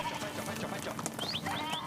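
Sheep on a farm at shearing time, with several short high bleats in the latter half heard over a dense, noisy backdrop of farm activity.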